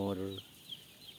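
Two-day-old broiler chicks in a closed-house poultry barn give a few faint, high, scattered cheeps after a brief voice at the start.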